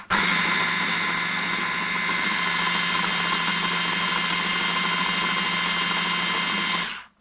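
A kitchen food processor motor running steadily at high speed, a loud, close, even whine with a constant drone that holds for about seven seconds before cutting off, no voices.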